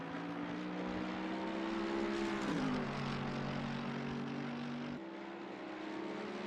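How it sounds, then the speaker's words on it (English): A Mercedes GT3 race car engine drones steadily in the Assetto Corsa Competizione racing game at Suzuka. The note holds constant, drops in pitch at a gear change, then settles lower and slightly quieter. "That Merc sounds lovely."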